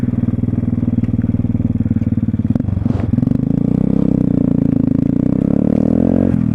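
A 125cc motorcycle engine drones loud and close while riding over bad potholes, with a brief jolt and clatter partway through before the steady engine note continues.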